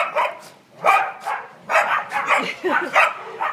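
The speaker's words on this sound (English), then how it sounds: "I'm going to see if one will bark at her." Puppies yip and bark in a quick, uneven series of sharp, close calls, with a few softer whimpering notes between them.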